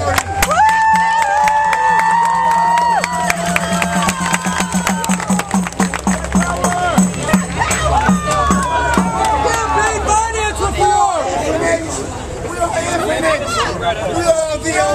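An Occupy Los Angeles protest crowd cheers and calls out outdoors. Voices and babble overlap loudly, with scattered clapping and a sustained tone running underneath.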